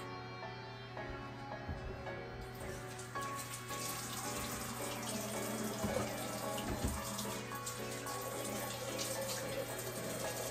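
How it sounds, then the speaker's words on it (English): Hands being washed under a running kitchen tap, a steady close rush of water into a sink with splashing changes as the hands move through the stream, continuous with no talk. "Now, we wash our hands real quick."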